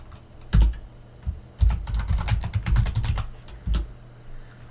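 Someone types a command into a computer terminal on a keyboard, producing a close run of crisp key clicks in an uneven rhythm with a few heavier strokes and quiet pauses between bursts.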